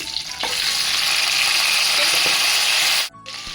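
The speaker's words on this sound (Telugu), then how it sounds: "ఇది ఆయిల్లో మగ్గనిద్దాం కొంచెము" Boiled chicken pieces sizzle and fry steadily in hot oil for green chicken fry, a loud continuous crackle with faint stirring clinks, cutting off abruptly near the end.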